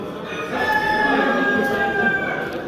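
Ayam Cemani and other ornamental chickens cluck and crow amid a busy, noisy farmyard din at a poultry show in Muğla, with murmuring voices in the background.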